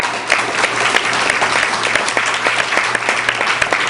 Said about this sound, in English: I think we owe him an applause for doing that work.